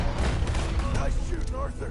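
Rapid gunshots ring out in a Red Dead Redemption 2 shootout, a dense volley of sharp cracks and booms over busy game sound with voices mixed in.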